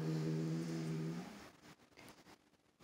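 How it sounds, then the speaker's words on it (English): A kitten growls in a low, continuous rumble for over a second, close and fairly quiet, then fades into faint scuffling and breathing. "Oh, you're growling."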